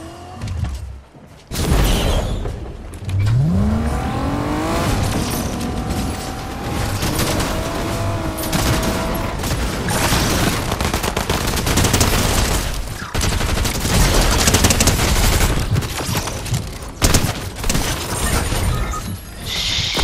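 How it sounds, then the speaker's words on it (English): Fortnite gunfire rattles in loud, rapid bursts almost continuously for twenty seconds, mixed with sharp impacts and mechanical clatter and a few brief pauses. "He's getting shot at."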